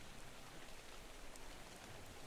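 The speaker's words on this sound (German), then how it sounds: "Es regnet." Rain falls in the video game ARK: Survival Evolved, a faint, steady hiss of drops on surfaces with no talking over it.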